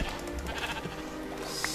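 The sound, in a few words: sheep bleating in Minecraft video game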